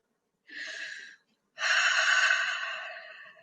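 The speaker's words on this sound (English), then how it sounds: "focus in on taking lovely, nice, slow, deep breaths" Slow, deep breathing comes close up: a short airy inhale, a pause, then a longer, fuller breath that fades away, with no talking.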